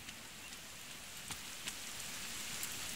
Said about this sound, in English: Got a shelter here, it's now raining